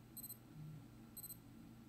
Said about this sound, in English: rapid ascension alarm.